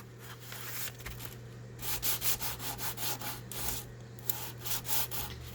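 Steady hand sanding along the grain of a wooden gun stock, a rough scratchy rubbing in repeated back-and-forth strokes, close up, with a low constant hum underneath.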